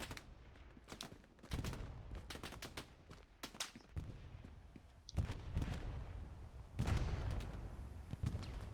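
Gunfire in the World War II shooter Hell Let Loose rings out as repeated sharp shots and bursts, some close and loud and others more distant, scattered irregularly across a quieter battlefield background.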